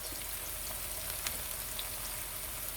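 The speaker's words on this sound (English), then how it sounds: "So you really do want to take the time to saute." Vegetables sauteing in a pot for a one-pot pasta with peas give a steady, soft sizzle and crackle that runs evenly throughout, with no talking.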